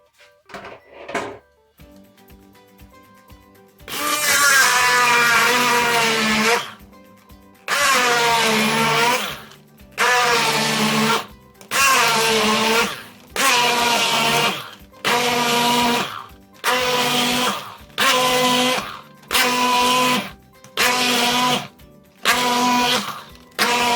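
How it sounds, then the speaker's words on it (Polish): A hand blender whirs loudly while pureeing beans into a paste, in repeated bursts, a long run followed by a series of short pulses with brief pauses between them. "przy pomocy blendera zmiksuj na pastę bez grudek"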